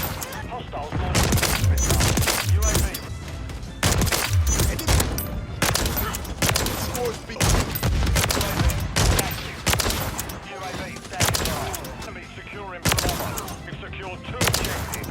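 Rapid sniper rifle shots fire in the Modern Warfare video game, with a Longbow or BAS-B fitted with an aftermarket part: sharp, loud cracks in quick succession with short gaps, some followed by booming echoes.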